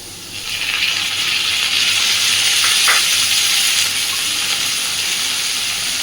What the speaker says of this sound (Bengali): আলুটা ভাজা হয়ে গেছে, এইবার আমি এর মধ্যে দিয়ে দেব কেটে ধুয়ে রাখা সমস্ত চিংড়ি মাছগুলো।